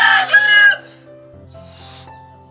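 A rooster crows at a Filipino village home among the family's chickens, one loud harsh call up close, then softer clucking and a second fainter crow trailing off.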